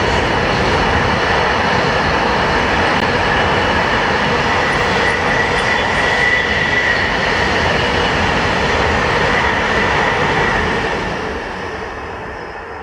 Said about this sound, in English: We're trying to record some trains.